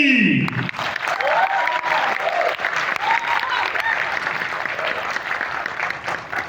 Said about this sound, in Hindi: आपकी तालियां बताएंगी मारवी